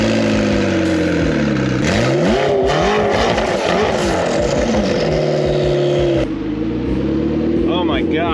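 A modified McLaren MP4-12C producing about 750 wheel horsepower revs and accelerates hard, its engine note climbing and falling loud and close. Speech is mixed in.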